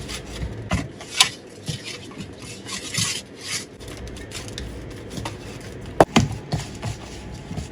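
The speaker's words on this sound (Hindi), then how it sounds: "हाथ की मदद से अच्छी तरह से गूंद लेंगे" Pizza dough being kneaded by hand, with soft rubbing and squishing strokes and occasional sharper slaps and knocks against the bowl, close and irregular, without talk.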